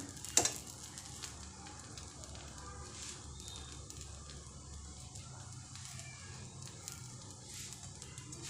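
Kanda poha, flattened rice with onion and coriander, sautéed in a pan, giving a faint steady sizzle with occasional light stirring scrapes and a brief clink near the start.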